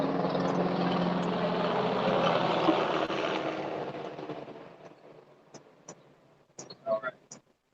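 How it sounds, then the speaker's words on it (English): Helicopter passing overhead outdoors during a tai chi lesson, a broad steady rotor and engine roar that fades away over several seconds, leaving brief clicks and a voice at the end. "Sorry for the helicopter."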